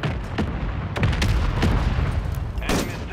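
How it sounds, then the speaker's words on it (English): Mortar shells strike near the player's position in Call of Duty, with a dense, loud barrage of booming blasts and sharp cracks overlapping in quick succession. "Hostile mortar strike near your position."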